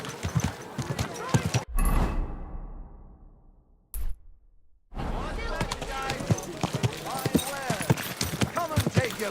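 Horse hooves clip-clop steadily in Kingdom Come Deliverance II, a close, rhythmic run of hoofbeats broken by a short pause, with a voice talking over parts of it.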